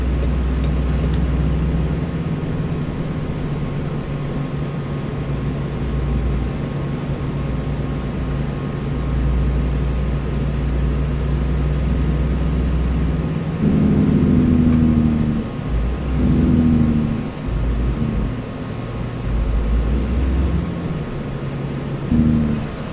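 Truck engine in American Truck Simulator hauling a trailer on a short Dollar General delivery, a steady low rumble throughout that swells louder near the end as the rig turns in, with no talking.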